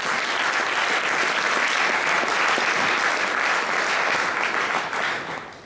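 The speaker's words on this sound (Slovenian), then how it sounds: "pa vendarle mu damo en velik aplavz" A large audience at an awards ceremony in Stara mestna elektrarna, Ljubljana, claps steadily and loudly for several seconds, a dense wash of applause that tapers slightly at the end.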